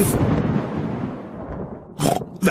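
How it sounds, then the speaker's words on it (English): A rumbling cartoon thunderclap rolls out and fades slowly during a children's animated thunderstorm, followed by a couple of brief sharp bursts near the end. "The thunderstorm is going away."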